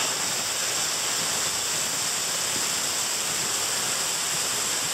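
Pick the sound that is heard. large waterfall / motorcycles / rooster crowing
large waterfall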